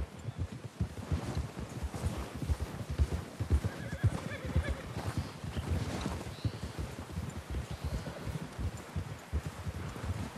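Horses in Red Dead Redemption 2 neigh and whinny as outlaws ready their mounts for a train robbery, with clip-clopping hooves and rustling outdoor ambience throughout, loud and close, without talking.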